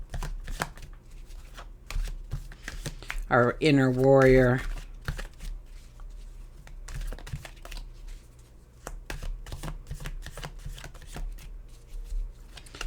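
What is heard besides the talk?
shuffling cards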